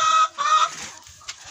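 Hens, including bantams, cluck nearby in winter in a short burst of squawky, warbling calls that trail off into quieter scratching and muffled sounds.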